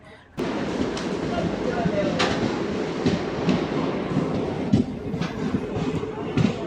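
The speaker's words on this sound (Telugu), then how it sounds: "కదిరి నుంచి మన ట్రైన్ బయలుదేరింది" A passenger train pulls out of Kadiri station on the Dharmavaram to Narasapur line. A loud, close, steady rumble runs throughout, broken by regular clacks from the wheels, with no talking.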